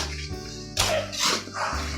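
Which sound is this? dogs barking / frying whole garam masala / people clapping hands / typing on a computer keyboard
dogs barking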